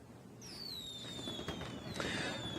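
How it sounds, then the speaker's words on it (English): Fireworks set off in the middle of a city street on the Fourth of July: whistling rockets streak off and pop, heard faintly from a replayed recording. "So what you see here is just fireworks that are being shot off in the middle of the street."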